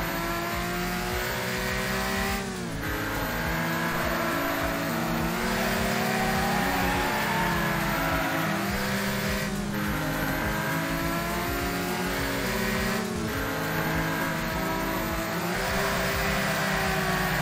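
A Class A race car drifting in a Brazilian drift video game, its engine revving loud and continuous with rising and falling pitch sweeps as the gears shift, brief dips marking each shift.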